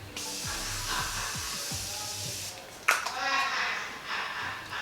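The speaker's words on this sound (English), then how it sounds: "I'm going to go ahead and spray my face again one last time." A short hiss of a setting-spray bottle misting onto a face, one sharp burst near the mic, with a voice and low noise in the background.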